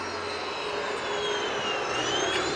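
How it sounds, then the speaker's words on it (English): A Lockheed F-22 Raptor jet backtracking along the runway at an airshow, a sustained whining jet engine roar with a slowly shifting high whine, steady and fairly loud throughout. "There's the F-22 Raptor backstrapping from our left, and then turning off the runway."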